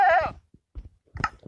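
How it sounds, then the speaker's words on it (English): A goat in the Minecraft video game lets out a single wavering bleat up close, followed by a few brief, softer game noises. "Yeah, I've got goats."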